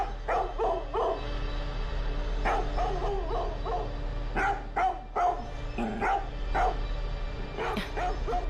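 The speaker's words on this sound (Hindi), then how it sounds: "अजीब है, जब देखो भौंकता रहता है।" A dog barks in repeated short bursts, mixed with yips and whimpering, fairly close by over a steady low hum, with no talk.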